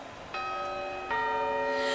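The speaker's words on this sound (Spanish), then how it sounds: "Ahora sonarán los cuartos" Clock quarter chimes sounding before the New Year's bell strikes, two clear ringing bell tones in succession, each sustained and fairly loud with no talk.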